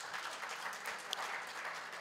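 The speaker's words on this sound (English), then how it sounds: "that deserves a round of applause, colleagues" Applause from a workshop audience at a provincial youth employment programme meeting, a steady dense patter of many hands clapping throughout, moderately quiet and somewhat distant.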